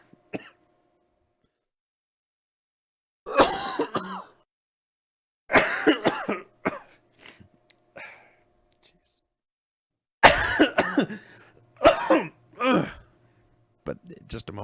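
Repeated bursts of coughing and throat clearing from a person with a cold during a podcast recording, coming in several separate clusters with short silent gaps between them, close to the microphone.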